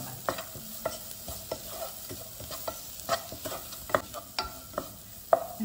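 Vegetables being stirred and sautéed in a pan for tapioca cutlets, with a soft sizzle under a series of sharp spoon scrapes and clacks against the pan, close and alone.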